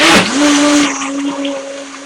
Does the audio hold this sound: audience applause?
no